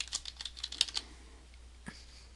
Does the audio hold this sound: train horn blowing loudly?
no